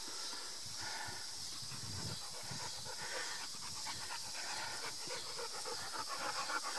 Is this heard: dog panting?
yes